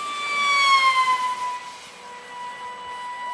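A model airplane engine flying overhead gives a high, whining buzz rich in harmonics that slides lower in pitch as it passes and then holds steady at a slightly quieter level, with no talking.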